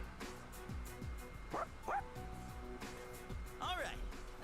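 A dog in Persona 3 Reload yips and whimpers in a few short, high bursts, heard under steady talk and game music.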